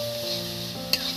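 Homemade fried mutton curry masala sizzles steadily in a pan, a close continuous hiss with one sharp clink of a utensil against the metal near the end.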